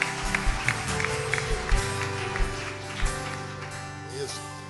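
A church congregation claps together in praise, a dense spread of applause rising and falling, with some voices and low rumble mixed in underneath.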